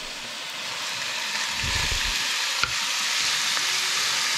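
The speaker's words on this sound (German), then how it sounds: "Und dann wird das in der heißen Pfanne. Wir betonen es nochmal. Heiße Pfanne. Heiß." Chicken sizzles steadily in a hot pan for butter chicken, a continuous close frying hiss with a brief stir or clink partway through and no talking.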